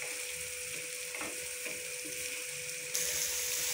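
Potatoes fry in a spice masala, giving a steady close sizzle with a few faint stirring knocks, and the hiss grows brighter toward the end.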